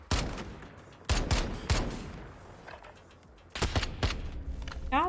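Sharp gunshots in the Call of Duty Gunfight 2v2 mode, several loud close bursts separated by short pauses, with a faint trailing clatter and little else around them.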